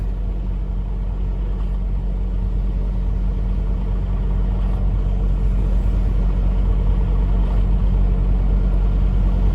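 A truck crossing a lot in West Palm Beach, a loud, steady low engine rumble with constant droning hum throughout, close and without talk.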